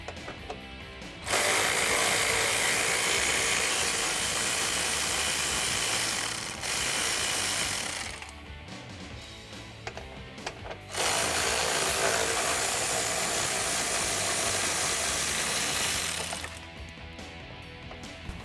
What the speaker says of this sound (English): I'm going to take an 8mm socket and go ahead and remove those